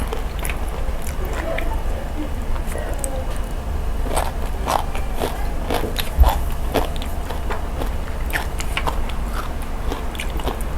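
Crunchy Thai fermented pork skin bitten and chewed with hot steamed rice and small chillies, close crisp crunches and wet chewing over a constant low background hum.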